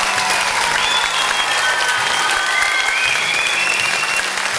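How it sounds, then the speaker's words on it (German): Loud, sustained applause from a crowd at a small event in Germany, dense clapping filling the whole stretch with a faint whistling tone drifting above it. "Und die könnt ihr mal ganz laut klatschen."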